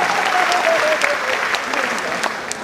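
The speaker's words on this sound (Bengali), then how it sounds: "জোরে করতালি।" Loud, dense applause from the audience at a media awards ceremony in Cumilla fills the hall steadily, with a voice briefly audible over it at the start.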